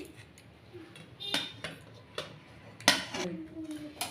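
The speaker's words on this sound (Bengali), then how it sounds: "বন্ধ করে দিয়ে একটা প্লেটে আমি এটাকে নামিয়ে নিচ্ছি" A spoon scrapes cooked semolina dough out of a wok onto a plate in a home kitchen, giving a few distinct metallic clinks and scrapes, spaced out and close by, with no talking.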